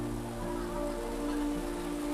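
Rain falling during farm work in the rice fields, a steady, even hiss of drops on surfaces, moderately loud and unbroken, with no voices.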